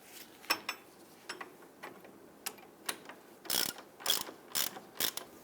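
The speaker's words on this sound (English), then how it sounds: "Snug down our lower ball joint nut." Ratchet clicking in short bursts as it snugs down the lower ball joint nut on a 2000-2006 Toyota Tundra front lower control arm, about a dozen quick ratcheting strokes, close and fairly quiet, with no talking.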